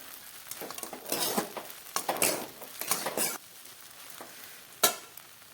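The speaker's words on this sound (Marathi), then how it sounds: "खिचडी ज्यावेळेस तयार होते त्यावेळेस ती कढईला असे चिटकून बसत नाही हलवताना आपल्याबरोबर लक्षात येतं" A spoon stirs sabudana khichdi in a kadai, giving repeated scraping, shuffling strokes against the metal over a soft sizzle, with one sharp clack near the end; the stirring is close and there is no talk.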